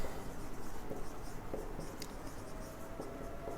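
A pen scratches out a maths solution on paper, a steady, close, quiet stream of strokes with a few sharper taps, and no voice.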